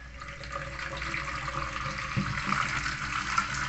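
Steady running tap water pours over seaweed as it is washed, making a continuous hiss and splash that stays even throughout.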